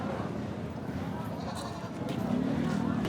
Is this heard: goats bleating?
yes